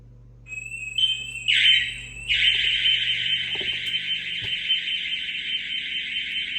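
A SimpliSafe Gen 3 security system alarm sounding during a living-room detector test: a piercing high electronic tone starts with a few short bursts, then holds as a loud continuous shriek.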